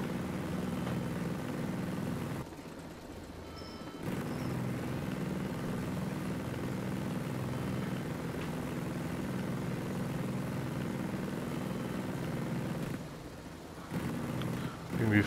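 A helicopter flies in the video game Ghost Recon Breakpoint, its engine and rotor drone forming a steady low rumble that dips briefly twice, with quiet talk over it.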